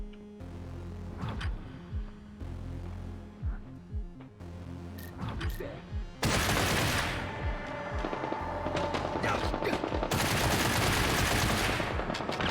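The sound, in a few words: gunfire in the video game Get Even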